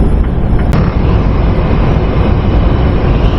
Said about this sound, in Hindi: आज इतनी हवा चल रही है